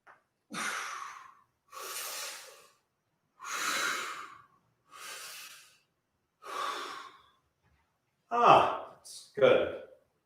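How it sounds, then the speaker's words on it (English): Deep breaths during a vocal warm-up exercise: about six slow, evenly spaced breaths heard close up, then a few quicker, sharper huffs near the end. "Breathing."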